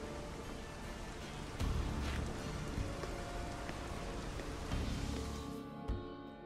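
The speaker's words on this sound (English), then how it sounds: "And of course it's raining, just to personify the mood." Rain falls in The Witcher 3, a steady soft hiss of drops with a few low rumbles and thumps layered in. The whole scene stays fairly quiet and even throughout.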